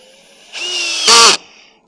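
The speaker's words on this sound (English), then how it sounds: "let's go ahead and get a couple of screws in" A power drill drives screws into wooden deck balusters, a short whirring run that climbs into a louder, higher burst as each screw seats, then stops.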